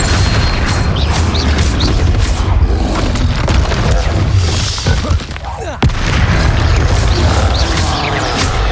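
Repeated heavy magical impacts from the Flipendo spell in a Harry Potter video game, loud booming thuds and crashes in a dense, continuous barrage with a brief dip midway.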